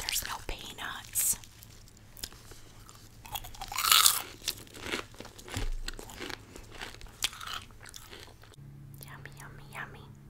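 Popcorn-with-peanuts candy is chewed close to the mic, with crisp crunching bites and chewing in bursts, a loud crunch in the middle, and soft whispery talk in between.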